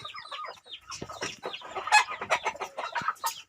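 Mixed-breed chickens from a Thai hen and a Leghorn rooster cluck close by in a busy, overlapping run of short calls and squawks, with no voices over them.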